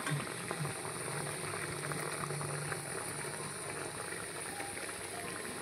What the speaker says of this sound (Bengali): এই যে তরকারিটা ফুটতে শুরু করেছে